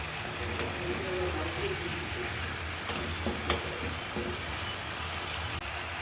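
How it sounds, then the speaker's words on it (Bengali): Food sautéed in a pan before baim fish goes in gives a soft, steady sizzle with faint stirring scrapes and clinks, close by and low in level. "এই যে আমি খুব সুন্দর করে এটা কষিয়ে নিচ্ছি, যাতে গন্ধ না আসে"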